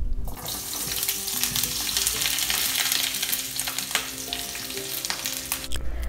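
Vegetables fry in a pan with sunflower spread, a steady, close sizzle that crackles continuously for the whole stretch with no talking.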